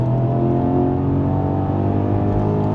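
An old Porsche Panamera on the Nürburgring Nordschleife gives a loud, steady engine drone heard from inside the car, holding a constant pitch with no talk over it.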